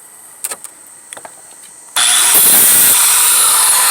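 A grinder cuts a bolt off an X13 motor being broken down for scrap: a few faint clicks and knocks, then the tool abruptly spins up into a loud, sustained, harsh grinding roar that dominates to the end.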